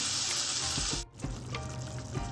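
Onions sautéing in a pan for potato masala sizzle steadily and close, then cut out abruptly and resume as a softer, quieter crackle with a few light taps and scrapes.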